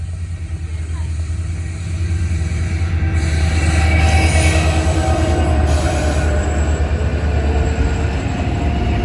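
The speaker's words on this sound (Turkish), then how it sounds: "Gördüğünüz gibi trenimiz de geçti." A train rumbles past outdoors in open ground, wheels and wagons producing a loud, continuous roar with some squealing, sustained throughout and swelling slightly in the middle.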